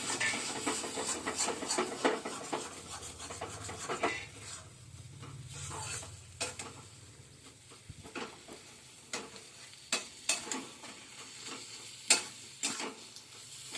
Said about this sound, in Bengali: আর একটু ভাজা ভাজা হলে এটাকে নামিয়ে ফেলবো